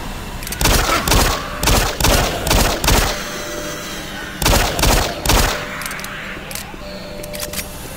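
A machine gun fires in Doom 3 in rapid clustered bursts, a run of loud rattling shots, a pause, then another short burst before fading into quieter game ambience.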